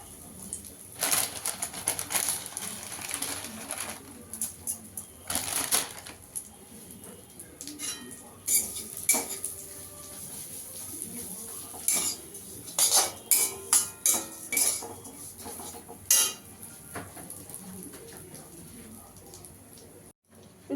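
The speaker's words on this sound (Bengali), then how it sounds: "হালকা করে একটু ভেজে নেব" Vermicelli frying in ghee in a pan, with soft scattered sizzling and repeated clinks and scrapes of a spoon stirring against metal, quiet and intermittent over about twenty seconds.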